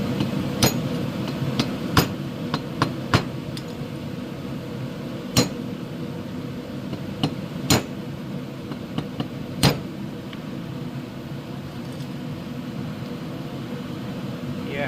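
Sharp, irregular metal hammer blows knock rusted valves out of a Honda GX270 engine head, a dozen or so clanks spread over a steady background hum.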